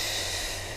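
A single breathy exhale during a pilates exercise, a close, airy hiss of breath pushed out through the mouth, steady for under a second and heard on its own without speech.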